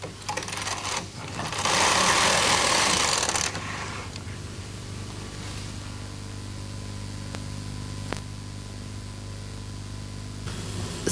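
A Bond Incredible Sweater Machine knitting: the carriage makes a steady rushing, scraping pass of a few seconds, then a softer mechanical hum with a few faint ticks follows, close by and with no talking.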